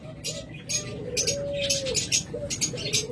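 A cage bird offered for sale gives repeated cooing and chirping calls, several short phrases in a row, close by against a steady low background hum.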